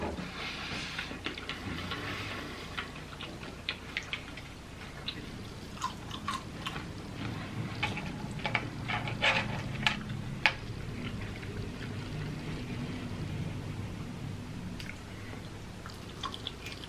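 Faint, close crunchy chewing of crisp bacon with cheese fondue, irregular bites and crackles spread across a quiet background.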